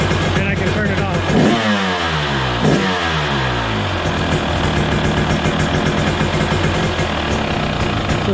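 A 2023 KTM 300 XC dirt bike with a PV fault code, its two-stroke engine blipped with the throttle, rising and falling in two sharp revs before settling into a busy, loud idle close by.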